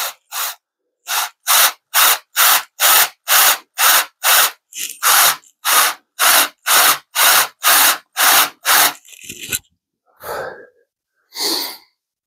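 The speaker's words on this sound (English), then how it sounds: "I'll go with a bigger drill bit and drill these countersinks out bigger" A drill bores out countersinks to a larger size on a metal part of a Dewalt DCS573 circular saw, heard as about eighteen regular bursts of whirring drilling, close and loud, followed by a few rougher, irregular pulls.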